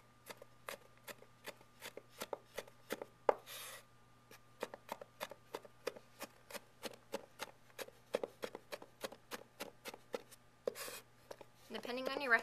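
A knife mincing food on a cutting board, producing rapid, evenly spaced crisp taps that continue steadily at close range and are fairly quiet.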